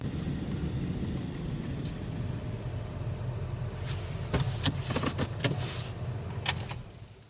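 A car in an old-time radio drama rumbles low and steady, then slows to a stop with a few sharp clicks and knocks near the end.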